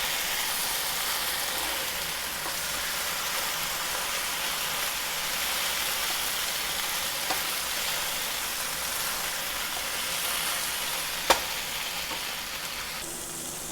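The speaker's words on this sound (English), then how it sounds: "the eggplant is done, and it has been frying for about, I would say, 20 minutes" A steady, even sizzle of eggplant frying in a pan, faint and continuous, with an occasional small click.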